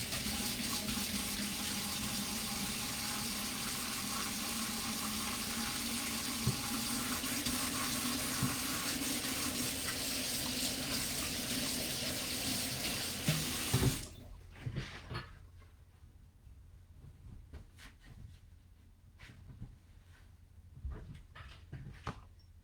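A kitchen faucet runs steadily while hands are washed, a loud continuous splashing stream for about fourteen seconds before it shuts off, followed by quieter drips, rubbing and handling sounds.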